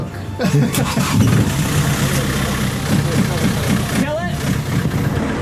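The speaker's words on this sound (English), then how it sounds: "Port engine to start" A catamaran's port engine, on a lightning-struck boat, cranks and catches, then settles into a steady rumbling idle, loud and close, with voices speaking over it.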